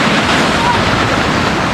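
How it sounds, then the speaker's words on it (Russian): Rough sea surf rolls in on the Crimean coast near Mezhvodnoe, a close, continuous roar of breaking waves mixed with wind buffeting the microphone. "вон что-то волнуется море"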